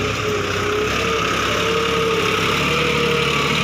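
A John Deere tractor's 2,900 cc three-cylinder turbocharged diesel engine runs at a steady idle, a continuous close rumble with a droning hum and no talking.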